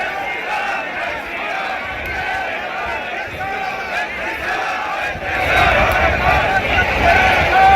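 A large angry crowd fills a street protest in Udaipur, a dense roar of shouting voices that swells louder toward the end, with chants and cries blending together.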